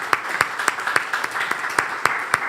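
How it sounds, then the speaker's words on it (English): An audience at a film production company panel applauds, a steady crowd clapping with several sharp, evenly spaced louder claps standing out near the microphone throughout. "round of applause for that"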